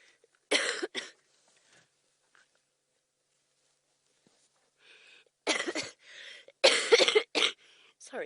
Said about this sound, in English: All that excitement is giving me the cough.